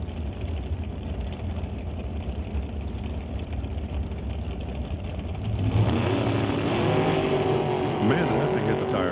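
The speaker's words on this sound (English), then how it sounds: "Jerry's car really rattled the tire there when he cut it loose" Drag race cars launching at a Top Comp race, one car shaking its tire hard as it leaves; a steady engine roar rises into a louder, harsher burst partway through, with an announcer talking over it.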